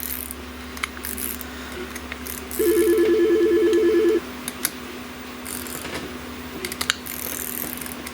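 Wrench ratcheting as bolts are tightened on the wheels of a J3D camera crane, with a short, rapid run of even clicks partway through against a humming background and scattered small knocks.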